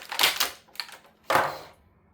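G.I. Joe Classified Dreadnok Torch figure pulled from its plastic packaging, with close crinkling and snapping bursts of plastic, three separate rustles with short pauses between them.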